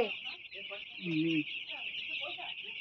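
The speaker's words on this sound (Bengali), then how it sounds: "এটা মুরগি ফার্ম মানে পাড়া হাউস" Chickens cluck and murmur in a laying house on a poultry farm over a steady high-pitched hum, with a brief louder cluck near the middle.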